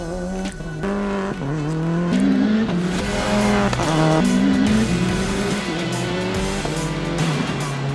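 Loud, continuous engine roar that keeps revving up and shifting pitch through gear changes, a rally car driven hard without pause, an overlay engine sound for the WRC 10 video game.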